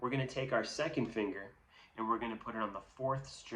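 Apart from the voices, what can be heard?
None of the usual background noises is heard.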